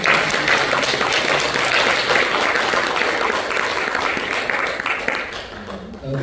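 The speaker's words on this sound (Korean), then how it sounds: "우리 이진경 목사님께 한번 박수 올려주세요." Sustained applause from a congregation at a church founding anniversary thanksgiving service in Los Angeles, a dense steady wash of clapping filling the room and tapering slightly at the end.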